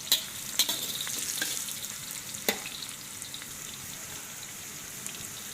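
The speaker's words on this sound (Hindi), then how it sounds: "प्याज हमारा हल्का हल्का सा गोल्डन ब्राउन हो रहा है।" Onions fry in oil toward golden brown for a Kashmiri-style mutton karahi, giving a steady close sizzle with a few sharp clicks and pops scattered through it, no voices.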